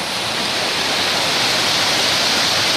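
Stream water rushes steadily around a sluice box set up for gold prospecting, a loud, close, unbroken broadband wash with no voices.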